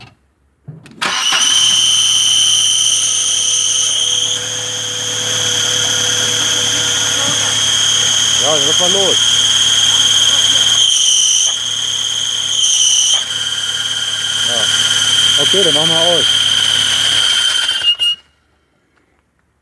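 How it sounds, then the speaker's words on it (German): An Audi 80 engine starts and idles with a loud, steady high-pitched squeal from the belt or gearbox area, a whine that runs continuously up close until the engine is shut off, with brief talk over it. "jetzt machen wir den Motor an, dass wir das schöne Quietschen mal hören"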